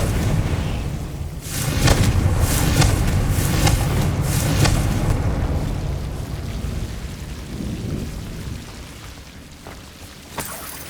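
A Confringo fire spell explodes in Hogwarts Legacy on PS5, giving a burst of loud, rumbling blasts and crackles that peaks early, then fades into a lingering low roar with a faint late pop.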